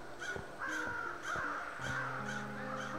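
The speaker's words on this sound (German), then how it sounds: "hier haben wir nur diese komischen Krähen, die mächtig Krach machen" Crows in the video game The Night of the Rabbit caw repeatedly in loud, harsh bursts, several calls spaced across a steady ambient background with no talking.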